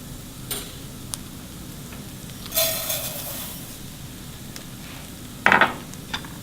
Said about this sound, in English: I've got about a tablespoon of butter that I'm going to add to this pan. And then I'm going to toast the rice.